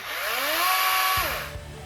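A Dewalt 20V 12-inch cordless chainsaw whirs at high speed with a rising then falling whine, then the blade brake engages, cutting the motor off abruptly, leaving a brief low clunk and quiet.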